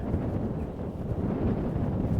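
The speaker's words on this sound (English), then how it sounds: "but it's still very, very windy" Strong wind buffets the microphone at a seaside caravan park in Seahouses in a continuous low roaring rumble, loud and close, with no talk.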